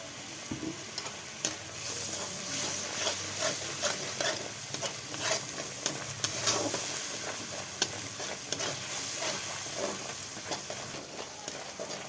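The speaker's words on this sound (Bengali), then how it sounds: "মশলাটা ভালো করে কষে নিচ্ছি।" Spice paste with turmeric powder is stir-fried in oil, with a loud, continuous sizzle and frequent scraping strokes of a spoon against the pan throughout, and no voices.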